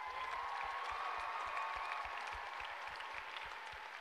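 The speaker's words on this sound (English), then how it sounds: "So a big round of applause." Audience applause fills a conference plenary hall at a youth forum, a steady dense patter of clapping hands sustained throughout at moderate distance with no voices over it.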